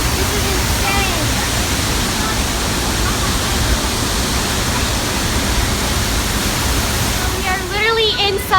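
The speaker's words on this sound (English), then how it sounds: "The waterfall is right there. You guys can't see it. It's so loud." A loud, steady roar of rushing water from a waterfall inside a cave fills the space, constant and enveloping, with a few faint voices briefly rising near the end.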